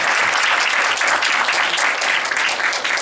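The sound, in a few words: applause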